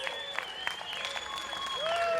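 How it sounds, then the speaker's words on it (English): An outdoor crowd at the US Capitol applauds Micki Witthoeft with a steady wash of clapping, fairly distant, and faint voices and whistles run through it. "You guys got to give her a round of applause."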